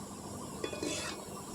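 Food fries gently in a pan over a low flame, a quiet soft sizzle with a couple of brief stirring scrapes near the middle.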